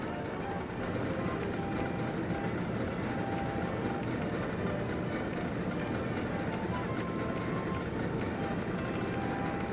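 A roller coaster train rolling along its track in RollerCoaster Tycoon, a steady rattling clatter running on without a break at moderate volume, with speech over it.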